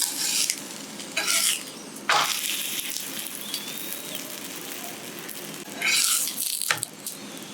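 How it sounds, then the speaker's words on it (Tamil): A chapati sizzling on an oiled griddle while being flipped and pressed, with a steady crackle broken by several louder bursts of sizzling and scraping as it is turned. "இப்படி டக்கு டக்கு டக்குன்னு பரட்டி போட்டுகிட்டே இருக்கணும்."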